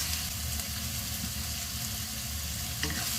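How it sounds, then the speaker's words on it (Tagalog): Tomatoes frying in a pan with red chili, giving a steady, dense sizzle close up that holds evenly throughout, with a faint clink near the end. "Palutuin natin itong mga kamatis."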